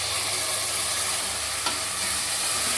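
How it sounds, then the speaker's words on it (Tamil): Ground tomato puree sizzles and bubbles in a hot pan for a vegetable biryani, a dense, steady frying hiss with a single stirring knock partway through. "ரெண்டு தக்காளி அரைச்சிருக்காங்க, ஊற்றிக்கிறாங்க."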